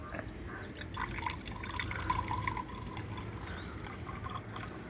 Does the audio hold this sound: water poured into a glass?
yes